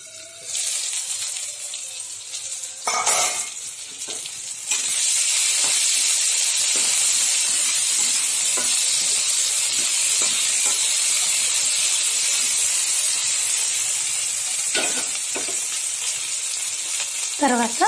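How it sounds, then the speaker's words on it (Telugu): Vegetables frying in a covered pan give a steady loud hiss and sizzle for most of the stretch, after a few rattling lid and pan knocks at the start and near the end. "ఇది కూడా కొంచెం సేపు మనం వేగనిద్దామండి మూత పెట్టేసి"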